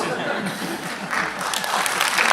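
Brief applause from a conference audience, a short burst of mixed clapping heard at moderate distance.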